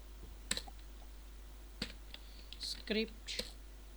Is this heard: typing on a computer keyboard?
yes